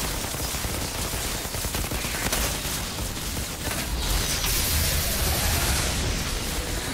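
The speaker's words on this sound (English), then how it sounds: "Let me kill these fucking guys who are shooting at us." Enemy gunfire in Outriders, sustained loud rattling automatic fire and overlapping shots forming a dense, noisy barrage throughout.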